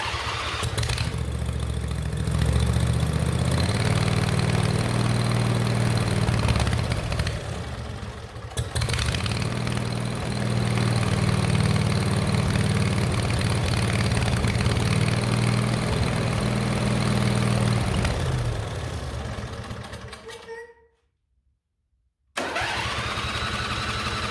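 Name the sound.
carbureted engine starting and idling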